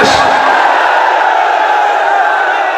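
A large crowd at a Kashmir march rally roars loudly and continuously, a dense wash of massed voices shouting together close by.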